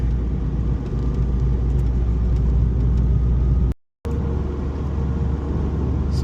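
A Subaru Impreza GD STi with a loud aftermarket exhaust cruising on the road, its steady low engine drone and exhaust rumble continuous and close from inside the car, broken by a brief dropout near the end.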